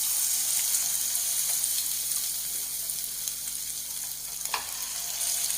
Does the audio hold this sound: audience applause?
no